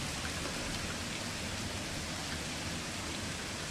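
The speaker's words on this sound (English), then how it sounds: "I do wish you could turn the rain down. It is rather noisy." Steady rain from the video game Spaceport Janitor falls as a dense, even hiss of drops, loud and unbroken throughout, with no voices.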